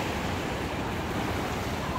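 Ocean waves wash in at Patar Beach in Bolinao, Pangasinan as a faint, steady broadband rush, with wind noise blended in and no voices.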